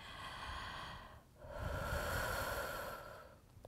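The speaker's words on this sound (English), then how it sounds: "One more breath in and one more breath out." A deep breath in and out during prenatal yoga: a long, close, airy inhale, a short pause, then a steady, slightly longer exhale.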